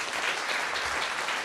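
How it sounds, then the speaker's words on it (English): Brief round of audience applause for a speaker at a talk event, a dense, steady patter of many hands clapping without a break. "Everyone, please give one more round of applause for David."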